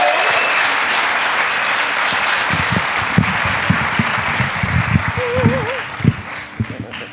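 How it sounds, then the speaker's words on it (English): An audience at an American Lung Association event in Colorado applauds, a steady wash of clapping that carries through with a few louder claps standing out as it goes on. "Can I please have a large round of applause for Miss Ellen?"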